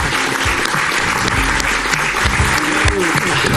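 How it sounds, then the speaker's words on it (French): A television football show's studio audience applauds Farman Bhatti, dense loud clapping filling the whole moment, with some voices mixed underneath. "Merci d'applaudir Farman Bati qui est avec nous"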